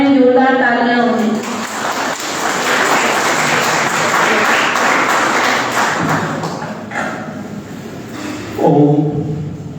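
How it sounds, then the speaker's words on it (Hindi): Loud audience applause welcomes a speaker at an Uttarakhand Foundation Day function, a steady roar of clapping lasting several seconds, with someone speaking before it starts and again as it fades. "उनके स्वागत में जोरदार तालियां होंगी।"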